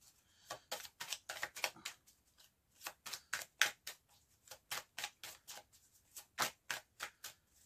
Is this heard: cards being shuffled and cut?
yes